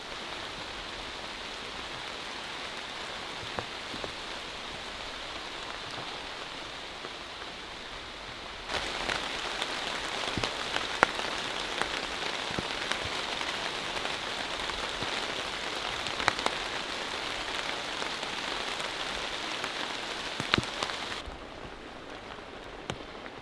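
Rain falls with wind outside a dugout pit shelter, a steady hiss that swells noticeably partway through, with scattered close drips and taps, then eases back near the end.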